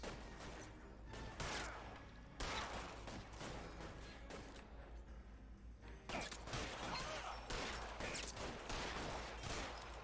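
Gunfire in the video game LA Noire, bursts of rapid shots and volleys crackling in clusters with brief pauses between them, loud throughout.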